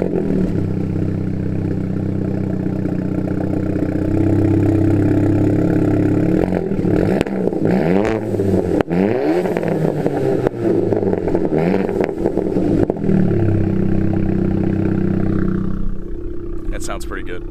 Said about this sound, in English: we're gonna get a little start up here of the exhaust, a couple little revs